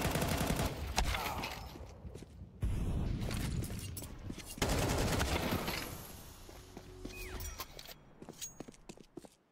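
Gunfire in the video game Counter-Strike on the Overpass map, loud rapid bursts of automatic rifle fire and single shots, with brief pauses and mechanical clicks between them.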